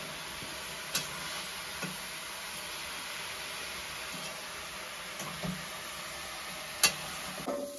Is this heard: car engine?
no